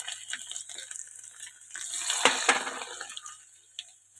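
Garlic dropped into hot oil on a lit stove, a close sizzling hiss that swells to a loud burst of crackle in the middle and then slowly dies down, with no talking.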